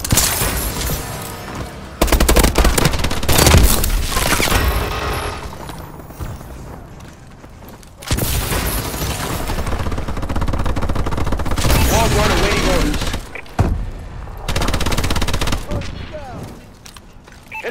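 A remote turret firing in Call of Duty Advanced Warfare: loud sustained bursts of rapid gunfire in several long stretches, with short pauses between them and game voice lines under the shooting.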